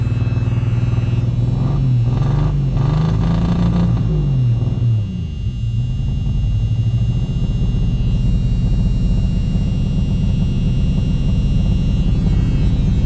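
An old car that sat in storage since the 1990s on its original gas, its engine cold starting with a wavering low idle that surges and dips, then settles into a steady loud rumble close by.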